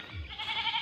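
A goat gives a single short bleat, close and moderately loud, with a wavering nasal tone over faint background noise.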